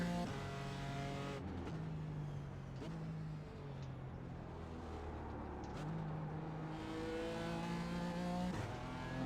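A GT4 race car in the iRacing sim at Mid Ohio, its engine droning and shifting through rising and falling revs as it accelerates off a corner, with several distinct gear changes.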